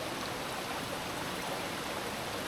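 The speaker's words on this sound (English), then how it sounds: "30 metres in and first creek crossing." A forest creek flows across a rainforest trail crossing in Far North Queensland, a steady, even rush of water that fills the whole stretch with no voices.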